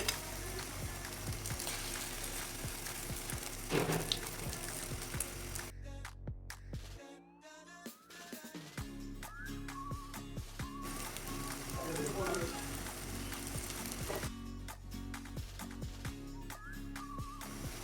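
An egg fries in a pan for a Hindi home-kitchen breakfast, a steady sizzle running through most of the stretch, briefly dropping out midway before resuming with faint clinks and background voices.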